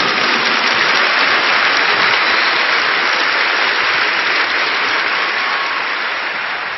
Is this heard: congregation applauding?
yes